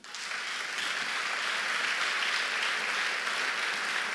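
A church congregation applauding steadily, a dense wash of clapping that holds at even loudness throughout with no pauses.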